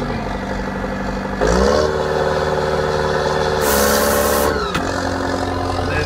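The engine on a tree-trimming saw rig steps up from idle to a higher, loud steady drone, holds there with a brief hiss partway through, then drops back to a lower tone near the end.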